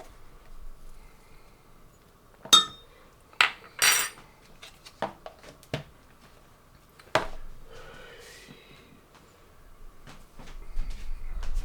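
A spoon clinks and scrapes against a jug several times in irregular bursts, stirring stock powder into boiling water, fairly close, with quiet pauses between strokes and no talking.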